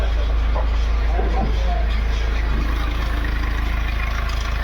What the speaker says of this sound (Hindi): आपको बाहर का आवाज़ सुनाता हूँ इंजन का।